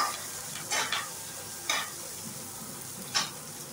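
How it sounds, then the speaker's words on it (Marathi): Frying in a pan until crispy and golden, a low steady sizzle broken by three distinct scraping stir strokes of a spatula, close and fairly quiet. "त्याला फ्राय करून घ्या. क्रिस्पी होसपर्यंत, पिवळसर रंग येऊसपर्यंत आहे ना फ्राय करायचा आहे आपल्याला."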